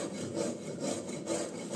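A hand rasp scrapes across wood in a close, rough rubbing rasp, with about four short back-and-forth strokes in quick rhythm, fairly faint and with no voices.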